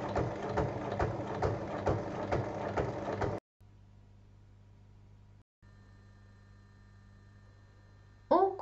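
A sewing machine stitches fabric for a small bag, running in a quick rhythmic whir for about three seconds before stopping, leaving a faint hum and a brief rustle at the end.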